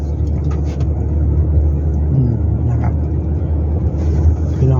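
A car pulls away and accelerates after a shift into first gear on a main road, its engine rumbling steadily and loud throughout, with a faint voice partly buried beneath.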